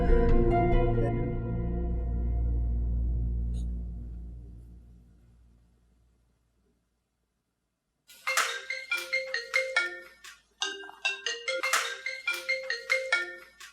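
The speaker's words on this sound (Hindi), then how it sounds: "देखना किसका फोन है?" A phone ringtone rings in a household scene from a TV drama, a repeating electronic melody of short, evenly pulsed bursts that begins after a fading musical tone and a moment of silence.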